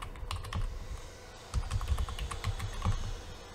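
Rapid keystrokes on a computer keyboard as a password is entered, clustered in short bursts of close, crisp clicks with brief pauses, no voices.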